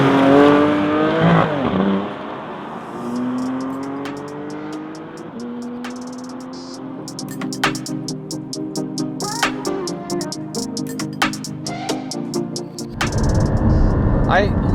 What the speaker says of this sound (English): the exhaust definitely turns heads, and it's the stock exhaust